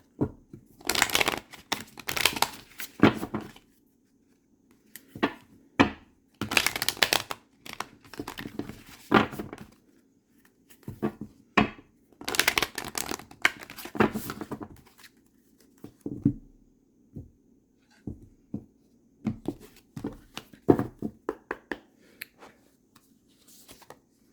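Repeated bursts of tarot-style reading cards being shuffled and riffled, crisp rustling flurries separated by short quiet gaps, close by and without speech.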